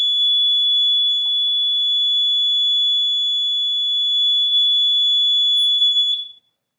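A continuous piercing high-pitched water leak sensor alarm tone, very loud (up to about 100 decibels) and steady for several seconds before cutting off abruptly.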